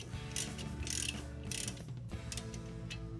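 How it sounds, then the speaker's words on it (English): Ratchet and wrench clicking on a 2014 Ford Focus sway bar link, with repeated bursts of rapid metallic ratcheting, close up, over a low steady hum. "I'm going to take this wrench, and I'm going to hold this ratchet while I try and screw in it."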